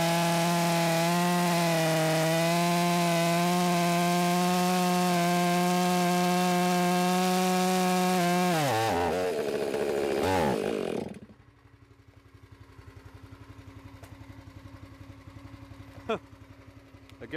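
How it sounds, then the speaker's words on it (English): A chainsaw runs loud and steady while cutting mixed heating firewood into manageable pieces, then sputters and dies as it runs out of fuel, leaving quieter background noise with a brief knock near the end. "You do not want to run your chainsaw out of fuel."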